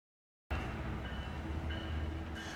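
BNSF freight train carrying UPS and FedEx containers rolls past the Fullerton station in a steady, loud rumble of wheels and wagons after a brief silence, with no voices.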